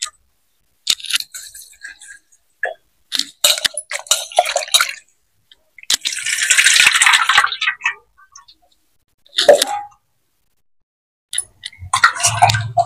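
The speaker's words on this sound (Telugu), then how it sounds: "చింతపండు కడగత 50 గ్రాములు కడిగి నానబెట్టు" About 50 grams of tamarind is rinsed by hand in a bowl of water, giving scattered close-up splashes, drips and soft squishes with short pauses between them.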